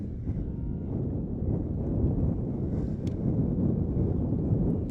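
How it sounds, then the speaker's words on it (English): Strong gusty wind roars steadily across a microphone at an outdoor high school boys soccer game, a loud low rumble filling the whole stretch with no talking. "Wow, that wind is amazing. It's got to add at least a 30-mile-an-hour gust."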